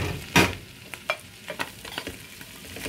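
Onions frying in a pan while making Italian-style shrimp noodles, a steady low sizzle broken by a few sharp clacks and scrapes of a utensil against the pan, close and fairly quiet.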